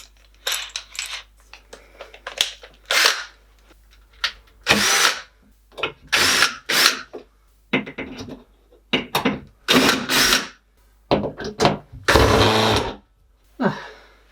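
A power screwdriver drives screws into wall plugs to fix battens for an airing cupboard shelf, giving loud repeated whirring bursts of a second or so, separated by short pauses, with no talking.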